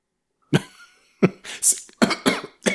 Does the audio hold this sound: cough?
yes